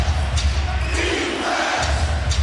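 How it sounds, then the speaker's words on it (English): Basketball arena crowd chanting for a defensive stop, a loud, steady mass of voices and noise filling the space throughout. "Crowd saying we need a stop."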